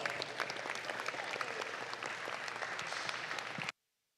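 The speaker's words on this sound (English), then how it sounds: "Let's give him a big round of applause." Crowd applause at a junior dairy cattle show at a state fair, dense steady clapping from an audience that is faint and distant, lasting several seconds before cutting off abruptly into silence.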